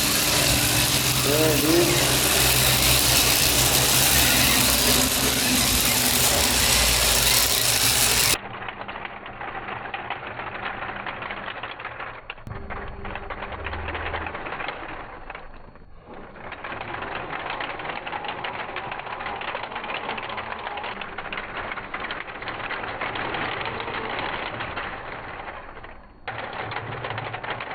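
Omnidirectional 4x4 RC car on mecanum wheels, an RBRC RB1277A, driving with a steady whirring, gear-grinding motor buzz that shifts and pauses as it maneuvers, close by, with brief casual talk over it.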